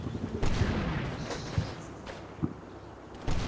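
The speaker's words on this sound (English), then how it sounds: "You see the artillery still falling." Artillery rounds land in the war game Combat Mission Red Thunder, with a string of sharp cracks and thuds spaced irregularly over a rumbling battlefield background, moderately loud.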